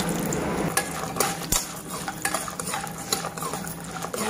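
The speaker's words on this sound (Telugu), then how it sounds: "ఇలా బాగా ఫ్రై అయ్యేలాగా వేసుకుందాము." Urad dal, peanuts and cashews fry in a little oil for cashew upma. A loud, close sizzle runs under quick, rhythmic spoon stirs and metallic clinks against the pan, and no one speaks.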